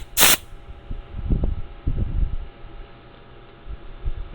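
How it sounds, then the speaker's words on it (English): A grease gun squirts grease during a 2002 Toyota Tacoma front-end rebuild: a short sharp hiss at the start, then soft irregular squelching and handling noises close by. "Now this grease gun, I'm gonna squirt a little bit out so you can see."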